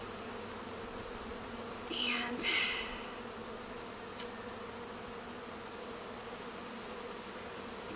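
Honey bees from an open hive hum in a steady, even drone that fills the whole stretch, with a closer bee buzzing briefly past in the middle and a single spoken word.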